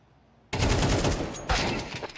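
AK rifle fire in a competitive first-person shooter match: silence, then sudden loud close bursts of rapid automatic shots with a second burst a second later.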